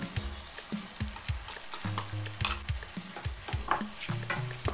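Tuna being stirred into a zucchini pasta sauce in a frying pan, with repeated scraping strokes over a steady sizzle, close and fairly loud.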